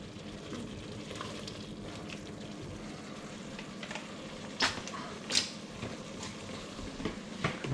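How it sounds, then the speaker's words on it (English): Butter chicken sizzles in a pan as it is stirred, a continuous soft frying crackle broken by several sharp scrapes and clinks of the utensil against the pan. "Give that a bit of a stir so it's not burning."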